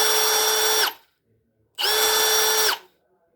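A DeWalt drill driver spins in reverse in two bursts of about a second each, a loud high whine with a brief quiet gap between them, close by.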